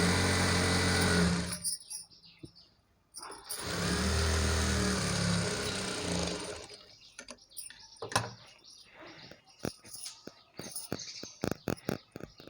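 Bursts of a sewing machine stitching a double-folded hem on a long umbrella-cut frock made from a saree, two loud runs separated by a pause, followed by quieter clicks and handling noises.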